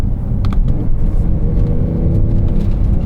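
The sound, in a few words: 2024 Porsche 911 Carrera T engine revving, throttle response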